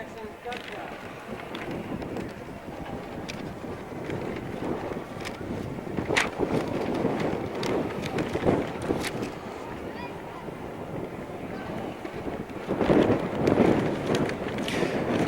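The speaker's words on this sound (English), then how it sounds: "I keep talking about the wind because I want everybody to understand that we're fighting the wind" Strong wind buffets the microphone at an outdoor Veterans Day parade in New Castle, a continuous rough rumble with gusts, under a voice talking throughout and scattered crowd and street noise.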